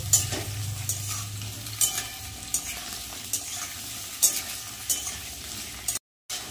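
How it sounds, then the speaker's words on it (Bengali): Potatoes and squash sizzle as they fry together in a pan with ground ginger, green chilli and cumin, a steady close-up crackle broken by repeated scrapes and clinks as they are stirred, with no talk. "আলু আর কোয়াশ একসাথে ভেজে নেব"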